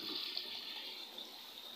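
Water runs steadily from a bathroom shower fed by a water tank and motor, a continuous hissing spray at moderate level with no speech over it.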